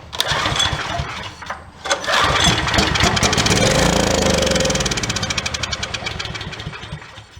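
A small Troy-Bilt generator engine sputters and catches on carb spray, then settles into a steady, rattling idle that dominates the clip, loud and close.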